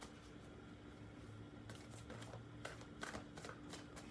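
Tarot cards being shuffled by hand for a Taurus reading, a run of soft riffling flutters and card slaps that bunch up in the second half over a low steady room hum.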